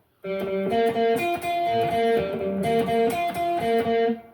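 Electric guitar plays a riff, loud and close, with repeated plucked note pairs in a steady rhythm and slightly distorted tone, no voices.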